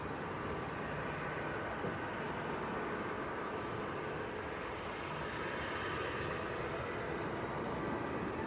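Ryanair airliner beginning its takeoff roll at Manchester Airport, a steady distant broadband roar of engines holding at an even level throughout.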